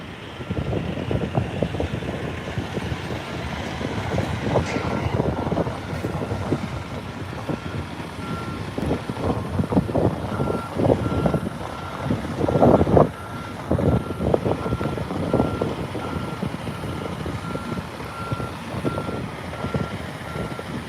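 A big truck fitted with a lifter reverses near a launch site, its steady reversing beeps repeating throughout over a diesel rumble, with gusty wind buffeting the microphone.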